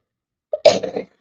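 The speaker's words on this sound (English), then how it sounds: "don't get upset about the coughing" A single short, sharp cough close to the microphone, a quick catch of breath followed by a burst, then silence.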